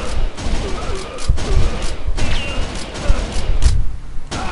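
Rapid gunshots in the arcade shooter Virtua Cop 2, sharp repeated blasts spaced through the clip over a busy game soundtrack, loud and close.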